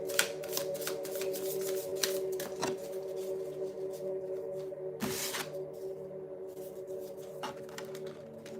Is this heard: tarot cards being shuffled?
yes